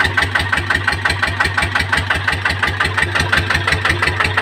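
A Magnum GT 155 diesel engine drives a turbine water pump, thumping out a loud, close, rapid and perfectly even knocking rhythm with a rough idling drone, no talk over it.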